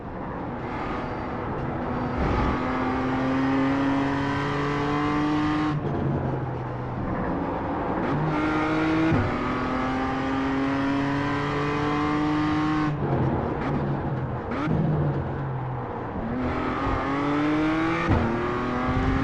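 A BMW M2 CSR race car in iRacing at Laguna Seca, its engine screaming up through the gears with repeated upshifts and downshifts, steady loud in-car drone rising and falling over a long stretch of track.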